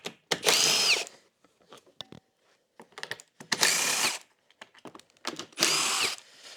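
A power tool removes 10mm bolts from a Honda Ruckus scooter. There are three loud, whirring bursts of about half a second each, separated by quieter clicks and small mechanical rattles.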